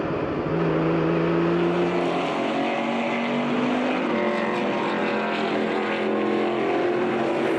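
A 1979 Porsche 935 race car, number 12, roars on track during a vintage sports car reunion race, its loud, continuous engine howl rising and sustaining throughout.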